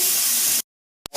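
Meat hitting a warm pan for cheese and macaroni, a loud broadband sizzle for about half a second that cuts off abruptly, followed by silence and two brief clicks.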